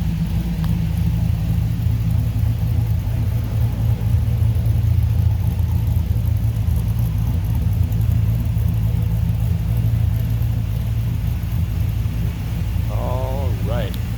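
A 1968 Chevrolet Impala convertible with an LS1 V8 idles in a deep, steady rumble, close and loud and unchanging throughout, with someone talking over it.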